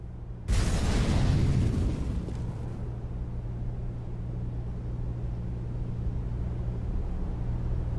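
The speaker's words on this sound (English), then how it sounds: "Throwing fire." A molotov fire grenade bursts into flames in a Counter-Strike match, a sudden loud whoosh of ignition that roars for about a second and a half, then settles into a low steady burning crackle.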